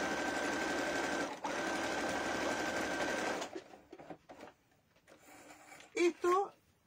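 A sewing machine stitches fabric for a small bag holding Christmas-tree ornaments, running loud and steady for about three seconds with a brief pause. After it stops, fabric rustles and someone talks.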